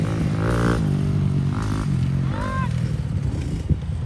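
A motocross motorcycle engine revs and shifts with a steady droning tone, while someone talks over it throughout.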